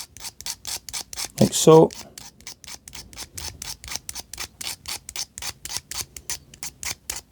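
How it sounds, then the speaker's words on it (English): A Stanley blade scrapes enamel off wire while winding an end-fed half-wave autotransformer, a steady rapid series of short close scrapes running the whole time, with a brief spoken phrase partway through. "to actually scrape the enamel off here. This is quite tenacious stuff, so I just like using Stanley blade,"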